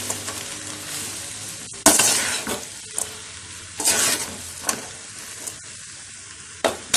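Homemade veg noodles with lemon juice stirred and fried in a pan on a stove over low heat. Soft sizzling runs underneath, broken by several sharp scrapes and clinks of the spatula at uneven intervals.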